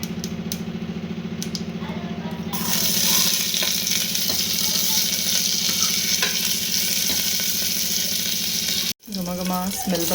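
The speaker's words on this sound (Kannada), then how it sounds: "ಸಾಂಬಾರು ಒಗ್ಗರಣೆ ಹಾಕ್ತಾ ಇದ್ದೀನಿ" Tempering (oggarane) for drumstick and lentil sambar sizzles steadily in hot oil, a loud continuous crackle with a low hum beneath, briefly cut off near the end before resuming.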